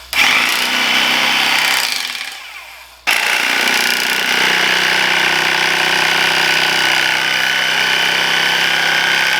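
A 3D printed paint shaker runs while churning cream into butter, a loud rattling buzz that winds down, cuts out briefly, then restarts and holds steady; no talk.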